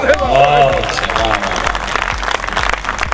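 A poetry gathering audience breaks into clapping after a tonal tone at the start, the applause carrying on as a dense, moderately loud patter with voices mixed in.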